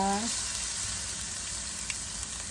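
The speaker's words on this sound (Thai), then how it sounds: "พี่ไหวเอาน้ำมันกับกระเทียมใส่ลงไปก่อน" Garlic in hot oil for pad see ew: a constant, even sizzling hiss fills the whole stretch, close and moderately loud, with a brief voice at the very start.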